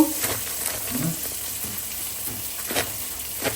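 Garlic, onion and green chili with sugar fry in hot oil with a steady low sizzle, broken by occasional stirring clinks and scrapes, close but fairly soft and without speech.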